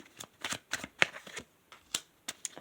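A short burst of tarot card shuffling, close and dry, with several quick papery riffles and taps in an uneven rhythm and no voice over them.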